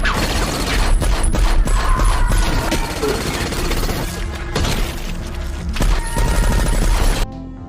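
Chaotic bursts of gunfire in an action film, mixed with crashes and impacts, loud and dense throughout, ending in sudden silence.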